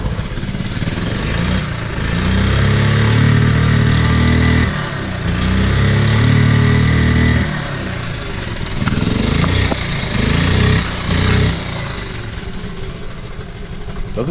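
Honda Z50 minibike engine kick-started, choked on, settling into a loud, steady, slightly rough idle with blips and dips in rhythm, close by and with no talking.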